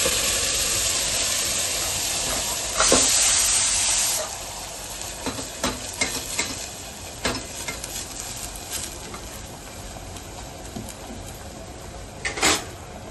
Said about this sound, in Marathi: कांदा टोमॅटो वाटलेत ना आपण, तर तेलात घालून द्यायचं